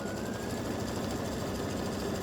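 Embroidery machine running a top stitch along the inside edge of satin stitching on a Halloween cowboy ghost patch, a steady, fast mechanical chatter and hum that continues unbroken at moderate volume.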